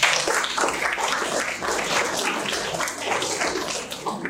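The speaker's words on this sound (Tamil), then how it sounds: "ஒரு தம்பி கைத்தட்டல் கொடுத்துடலாம்." Audience clapping at a chief guest speech during a batch inauguration event, a dense, even burst of many hands applauding throughout at moderate loudness.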